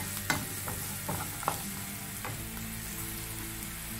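Finely chopped onions sauté in hot oil in a pan for crab masala, a steady close sizzle with a few sharp stirring scrapes and clicks.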